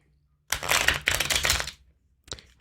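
Tarot cards shuffled by hand in two long riffling bursts, crisp and close, then a brief final flutter after a pause; no one speaks.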